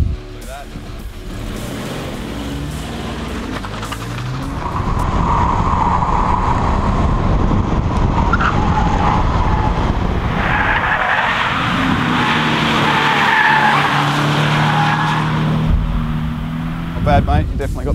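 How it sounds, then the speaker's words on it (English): A naturally aspirated Toyota 86 on cheap, hard track tyres is driven hard around a circuit, its engine straining loudly as the tyres skid and squeal, with a voice talking over the noise. "Let's see what this car can put out in its standard form with our awesome cheese cutter tyres on it, naturally aspirated"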